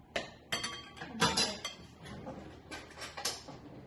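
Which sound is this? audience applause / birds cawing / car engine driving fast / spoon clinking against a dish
spoon clinking against a dish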